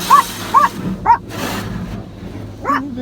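Dogs barking at a car wash: several sharp, close barks and yips in quick succession, then a pause filled with background rumble before one more bark.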